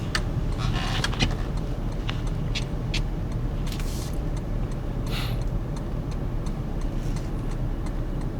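A car is driven at night in automatic drive mode through Makati. A steady, moderate road and engine hum continues throughout, with faint ticks and light clicks on top.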